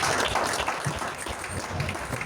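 A church congregation claps for the Lord in dense, sustained applause, with many hands beating together close and loud for a couple of seconds.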